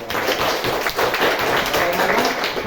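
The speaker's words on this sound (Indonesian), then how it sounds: "Ya, beri tepuk tangan dulu" A school class claps for a group that has just finished its presentation, close and fairly loud with individual claps and taps standing out from a small crowd, and bits of talk mixed in.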